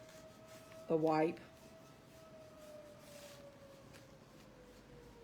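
A large town fire siren wails in the distance as a faint, sustained tone that sinks slowly in pitch. A brief spoken word cuts in near the start over quiet room background.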